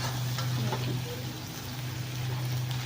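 Dried fish chutney frying in a pan with steady stirring, a soft continuous sizzle and hiss close by, moderately quiet with no talking.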